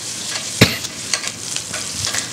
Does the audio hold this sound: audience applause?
no